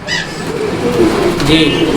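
Pigeons of Lahori and other breeds coo in a loft, soft low calls repeating throughout under a steady background murmur with brief higher chirps.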